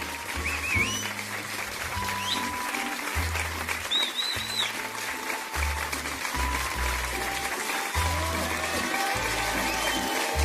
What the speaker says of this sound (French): Applaudissez, voilà, applaudissez